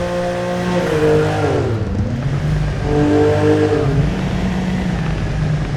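A 2015 BMW M4 in the GTA 5 video game revs up and shifts through gears, its engine tone climbing, dropping and climbing again, loud and close with no talk over it.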